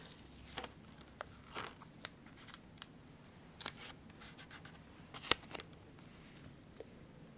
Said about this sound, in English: So I'm going to grab some tape.